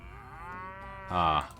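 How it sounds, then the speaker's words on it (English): Cattle in a Mount & Blade: Warband mod give a sustained, rising moo that swells louder near its end, close and alone with no talk. "I hope these cattle follow me"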